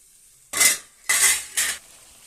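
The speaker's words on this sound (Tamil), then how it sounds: "அரைச்சி வச்சுருக்கேன் பார்த்தீங்களா தக்காளி பேஸ்ட்டு, அதையும் மிக்ஸ் பண்ணுறேன்." A metal spoon stirs tomato paste in a cooking pan in three distinct scraping bursts, close and fairly loud, with quiet gaps between them and no voices.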